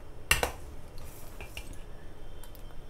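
A spoon clinks against the side of a pot while stirring milk curdled with vinegar, one sharp metallic knock followed by fainter scraping taps in a quiet kitchen.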